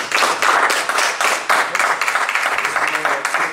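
A small group at a city council meeting claps in a brisk, close burst of distinct handclaps that thins into scattered claps toward the end.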